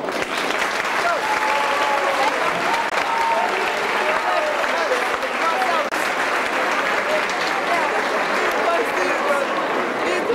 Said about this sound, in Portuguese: Uma grande salva de palmas para vocês.